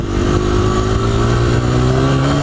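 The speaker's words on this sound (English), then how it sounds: "Now as I give it more throttle and we start to gain more speed, the RPMs start to go up." A motorcycle accelerates under rising throttle, its engine note climbing steadily in pitch with strong harmonic tones, loud and close throughout with no talking.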